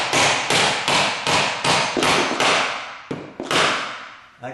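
Hammer blows driving nails into wooden baseboard trim by hand: about nine sharp, loud, close strikes in a steady rhythm, each ringing briefly before the next, with a faint final tap.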